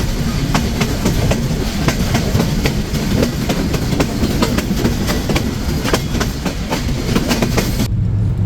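The Silkcity Express rolls out of Abdulpur railway junction with loud, close, steady rumbling and rhythmic clickety-clack from the wheels over rail joints, heard from on board, before the sound drops away abruptly at the end.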